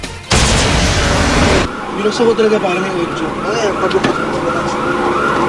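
A fire truck's siren wails loud and close on a Quezon City street before dawn, heading to a warehouse fire, then cuts off as traffic noise and a voice follow.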